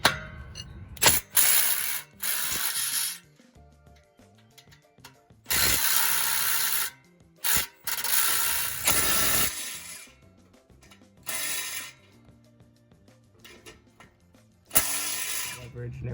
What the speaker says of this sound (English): all I gotta do is break loose these bolts now